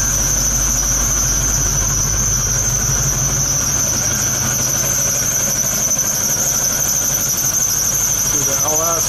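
A 1972 GMC Jimmy K5 fitted with an LS engine and new dual exhaust and mufflers runs steadily, a loud continuous rumble with a high whine on top and no change in pace.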